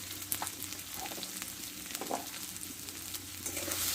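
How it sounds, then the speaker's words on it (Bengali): Spices, a large tomato and salt stir-fried together in a pan for a vegetarian dish, a steady close sizzle with scraping stirs and small crackles, no talk over it. "মশলাগুলো একসঙ্গে ভালোভাবে কষে নেব"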